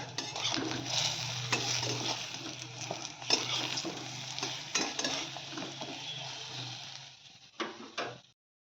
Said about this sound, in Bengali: এখানে একটুখানি বেগুন ভাজছি